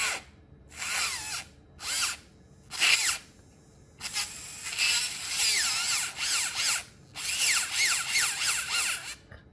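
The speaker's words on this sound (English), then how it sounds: "I'm jumping straight to the 2x6 drill. And so we'll just go through the drilling sequence" A high-pitched dental implant drill whirs in repeated short bursts separated by pauses, the later runs longer, sounding close and fairly loud.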